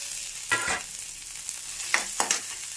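Onion, green chili, garlic and tomato sizzle in a pan for a curry leaf thuvaiyal, a steady soft frying hiss broken by a few louder stirring scrapes and spatters, no one speaking.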